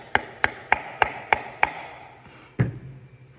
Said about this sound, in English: then use my hammer to